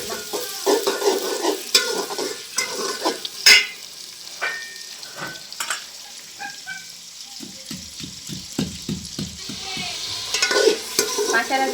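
Browned onions and spices frying in a pan, crackling sizzle broken by sharp scrapes and a run of rhythmic spoon strokes against the pan, close and clear with no talk.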